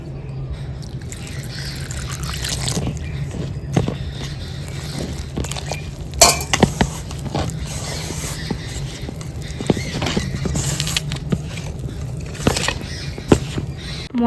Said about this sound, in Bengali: এবারে জল দিয়ে মেখে নেব।